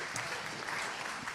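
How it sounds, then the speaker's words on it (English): Church congregation applauding at a Sunday evening service, a steady wash of many hands clapping, moderately loud and continuous throughout with no voices on top. "And yeah, sure, you can clap for that."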